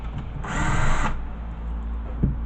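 A power drill spins out screws from a flat-screen computer monitor in one buzzing burst of about half a second, close and clear, followed by quiet handling noise and a faint knock.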